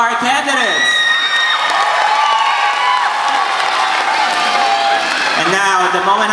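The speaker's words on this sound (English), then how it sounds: "A round of applause for our candidates." An audience at the Miss Philippines pageant in Florida applauds and cheers for the candidates during the evening gown segment, a steady, loud wash of clapping, whoops and shouting that lasts throughout.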